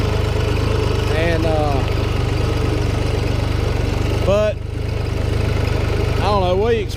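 A Ford 1910 tractor engine runs steadily with a fence mower cutting tall grass, a constant low drone throughout. A voice talks over it, with brief lulls in the engine's note.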